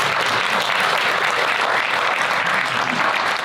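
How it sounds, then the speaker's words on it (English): An audience claps steadily at a community drug awareness council event, a dense continuous round of applause lasting throughout without voices. "Please give her a round of applause."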